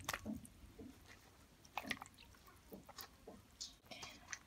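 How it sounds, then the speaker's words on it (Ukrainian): Saffron milk cap mushrooms being washed in water make soft, close, irregular squelches, drips and splashes, faint and alone. "Для початку ми їх помиємо."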